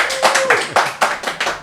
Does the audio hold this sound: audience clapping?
yes